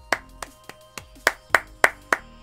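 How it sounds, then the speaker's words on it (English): A single person claps by hand, about eight crisp, separate claps at an uneven, unhurried pace, close and clear with no voices over them. "It gets a salute and a clap"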